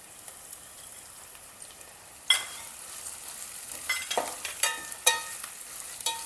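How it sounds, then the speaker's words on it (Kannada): Chopped vegetables for vegetable upma fry in a pan, a soft sizzle that grows louder once more vegetables drop in, with scattered crackles and stirring scrapes throughout. "ಸ್ವಲ್ಪ ಲೈಟಾಗಿ ಫ್ರೈ ಮಾಡ್ಕೊಂಡಾದ್ಮೇಲೆ ಒಂದೊಂದು ಕಾಯಿಪಲ್ಯ ಸೇರಿಸ್ಕೊಳ್ಳೋಣ"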